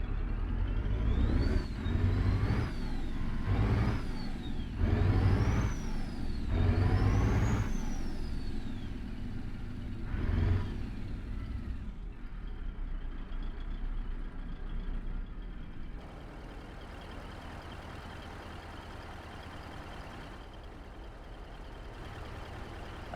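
A Freightliner Argosy truck engine in American Truck Simulator revs up repeatedly through several gear changes, each rise climbing in pitch, then settles into a steadier, quieter drone with a faint air hiss.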